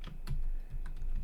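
Keys clatter on a computer keyboard as a command is typed into a Raspberry Pi terminal while configuring a Freenove smart car kit, a few quick close clicks over a low steady hum.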